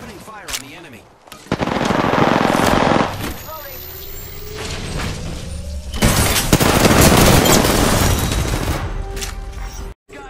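Apex Legends gunfire, with rapid automatic bursts and booms that come in dense, loud volleys broken by short pauses, mixed with game effects and some voice audio.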